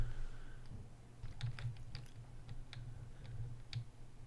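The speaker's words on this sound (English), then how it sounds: "So I'm going to start typing this in, and I will not force you to watch me type." Python code being typed on a computer keyboard, with irregular quiet key clicks in small bursts over a low steady hum, no talking.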